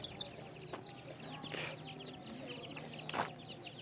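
Village chickens, a mother hen with her chicks, cluck and peep in a steady stream of soft calls, with chick chirps scattered throughout and a couple of louder fowl calls standing out against a faint farmyard background.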